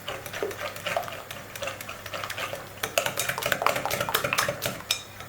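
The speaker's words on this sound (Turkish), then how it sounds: "Güzelce çırpıp unu dağıtın" A whisk clatters quickly against a bowl while flour is beaten into a sauce for cauliflower, rapid scraping and tapping strokes that grow denser and louder toward the end.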